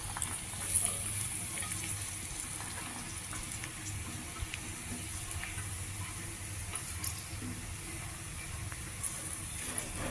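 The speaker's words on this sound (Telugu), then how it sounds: "ఇలా కట్ చేసుకున్నవి కొద్దిగా నూనె వేసి ప్యాన్లోను వేయించుకోవాలి" Chopped onions fry in a little oil in a pan, giving a steady, fairly quiet sizzle with faint crackles and the odd clink of stirring, and no voices.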